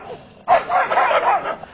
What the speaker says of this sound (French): le chien là qui aboie derrière le portail du voisin